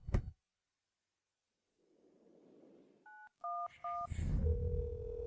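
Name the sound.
telephone keypad dialing tones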